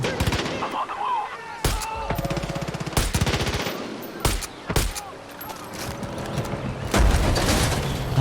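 Gunfire in the video game Far Cry 6: loud, rapid bursts of automatic fire and sharp single shots crack through the scene in repeated volleys, with a voice speaking between them.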